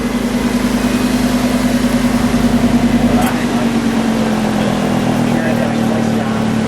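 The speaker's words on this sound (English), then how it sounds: "just let's let it idle. I want to hear the differences. Let's start with Strata." A 2017 Lamborghini Huracan V10 idles in Strada mode with a steady, smooth, low rumble that holds constant throughout, close to the car.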